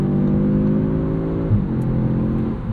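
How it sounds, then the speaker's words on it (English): A turbocharged 2025 Audi S3 engine drops a gear on a morning commute, its steady cabin drone shifting pitch midway as revs settle, loud and continuous with no talk. "That was a very interesting downshift there."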